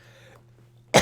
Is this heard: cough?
yes